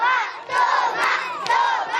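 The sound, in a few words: crowd of about 300 schoolchildren making noise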